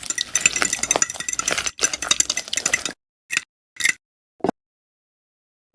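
A spoon stirs pickles, mayonnaise, mustard and parsley in a small miniature-cooking bowl. Rapid, close scraping and clinking continues for about three seconds, then a few isolated taps follow before silence.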